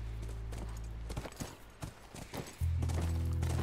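Horse hooves clip-clopping in the video game The Last of Us, a steady run of close hoofbeats over a low droning game soundtrack.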